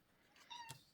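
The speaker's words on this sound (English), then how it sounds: "Sorry, that's my cat." A house cat meows once indoors, a short rising-and-falling call with a brief sharp burst at its end, fairly close and clear against a quiet room with no talking.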